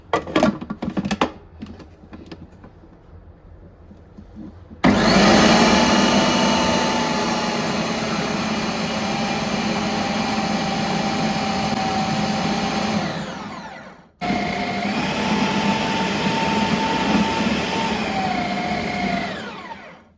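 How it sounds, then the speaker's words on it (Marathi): A food processor kneads spinach dough for palak puri, a steady loud motor whir running for about ten seconds, briefly stopping, then resuming before cutting off; clicks and handling noises come before it starts. "मला हे प्रियांकाने दिलेलं आहे, फूड प्रोसेसर"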